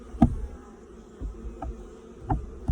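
Honeybees at a calm, thriving hive give a faint, steady buzz, broken by a few soft thumps and brief bursts of louder buzzing as individual bees pass close by.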